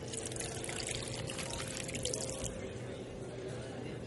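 Water poured from a jug into a glass at a table, a steady close trickling pour running throughout over a background of low room murmur.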